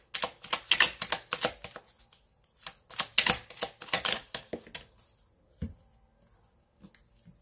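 Tarot cards riffled and drawn for a love reading, heard as bursts of crisp, close papery flicks and snaps that thin out into a few isolated taps and slides.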